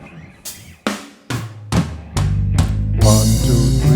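Electric guitar picks a blues scale in triplet rhythm, single plucked notes ringing and overlapping in quick succession, building into a sustained, fuller ringing chord-like wash toward the end.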